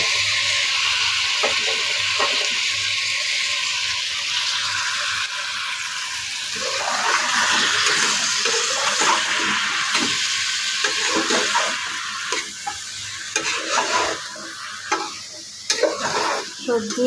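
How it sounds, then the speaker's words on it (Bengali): Vegetables and fish stir-frying with spices in a pan, a continuous loud sizzle with busy scraping and tossing strokes up close, growing more active partway through, with no voices. "সবজি আর মাছ মশলার সাথে কিছুক্ষণ কষিয়ে নেবে।"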